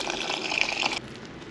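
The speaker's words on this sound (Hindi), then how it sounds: "मुझे देना पड़ेगा पानी।" Water poured into a cooking mixture of salt and sugar at home, a steady close trickling splash for about a second and then stopping.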